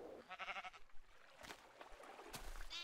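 Sheep bleating in the Tekkit modpack of Minecraft, a wavering game bleat near the start followed by a few shorter bleats and clicks, loud and close with no talking.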